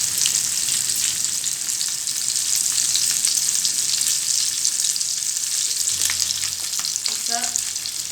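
Pomfret (paplet) fish frying in hot oil in a pan, a steady close crackling sizzle that runs throughout, with a brief low clunk near the end and no talking.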